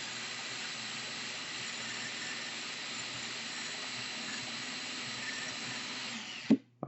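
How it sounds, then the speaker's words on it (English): Rotary tool fitted with a router blade cutting a plastic 1/35 scale model spare wheel, a steady high-pitched whine that runs continuously, then cuts off abruptly near the end. "I might put a router blade on this."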